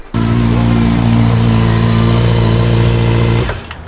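A Honda CB400 motorcycle runs close by with a loud, steady engine drone for about three seconds, then cuts off abruptly, with no talking.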